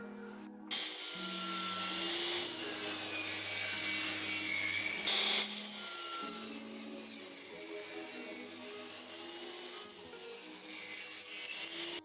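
Continuous sanding of plywood router table components, a steady abrasive rubbing with a few short pauses and shifts in pressure, close and fairly loud throughout.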